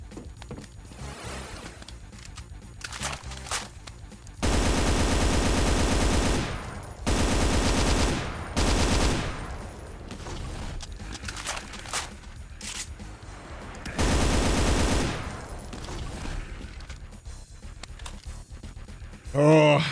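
Chaingunner enemies in Brutal Doom fire in long, loud bursts of rapid machine-gun rattle, separated by quieter gameplay stretches, with a player talking in between.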